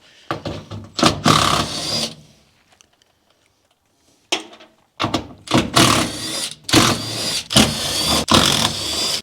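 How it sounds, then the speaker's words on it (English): Ratchet wrench with a 7/16 socket backing nuts off the tail light studs of a 1972 Ford Maverick, heard as close, loud bursts of rapid clicking separated by short pauses and a quiet gap. "take a 7/16 and take all these bolts out, all these nuts off"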